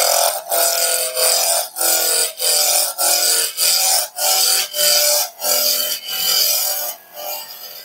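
A roughing gouge cuts a wooden blank spinning on a woodturning lathe, giving a loud, rasping scrape that breaks into a steady rhythmic chatter about once or twice a second as the tool meets the out-of-round wood.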